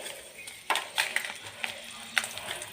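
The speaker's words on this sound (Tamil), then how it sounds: "இது அடுத்து கொஞ்சமாக எண்ணெய் ஊற்றிட்டு நம்ம எடுத்து வச்சுருக்க மிளகா வத்தல்" Dried red chillies frying in a little oil give a soft sizzle with scattered crackles and pops, faint and close.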